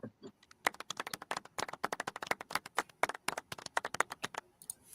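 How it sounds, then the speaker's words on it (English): A slow, sparse golf clap from a few people during a live stream, a steady run of separate hand claps at close range that briefly speed up before trailing off. "We got the golf clap."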